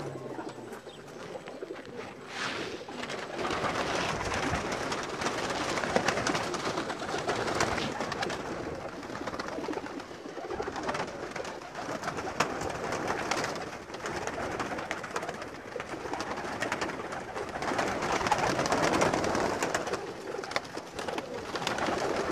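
Pigeons coo steadily and continuously up close in a cramped loft, a dense overlapping chorus of soft throaty calls with a little rustling, no talking.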